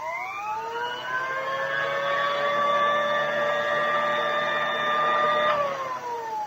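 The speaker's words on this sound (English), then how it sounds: "If the machine is standing in one place, if it is not being used, it will sound like this." Old-style vacuum sweeper idling while standing in place, a steady whining hum with layered tones that rise as it spins up, hold level for several seconds, then drop away.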